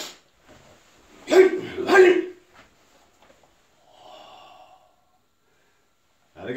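Forceful martial arts exhales through the nose, two strong huffs in quick succession followed by a softer breath a couple of seconds later, close and otherwise quiet.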